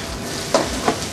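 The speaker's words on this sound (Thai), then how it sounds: "แล้วก็เราก็ใส่ถั่วงอกตังฉ่ายก้านผักกาดขาวลงไป" Crab meat stir-fried with bean sprouts, preserved cabbage and napa cabbage stems gives a steady close sizzle, with two brief scraping stirs of the pan standing out.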